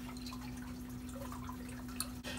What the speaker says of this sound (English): Supposed to put 2 milliliters of water.